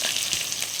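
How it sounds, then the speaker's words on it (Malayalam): Crushed ginger and garlic frying in hot coconut oil, with a steady close sizzle and fine spitting throughout a brief moment. "ചതച്ച് വെച്ചിരുന്ന ഇഞ്ചിയും വെളുത്തുള്ളിയും ഇട്ട് കൊടുത്തിട്ടുണ്ട്"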